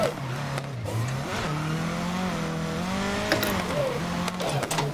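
Race car in GRID 2019 sliding through a short drift after a tap of the e-brake, its engine note rising and falling steadily with tire scrub and a few sharp transient knocks, loud and close throughout.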